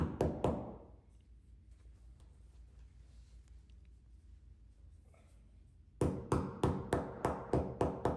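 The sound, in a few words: rubber mallet tapping plastic anchors into tile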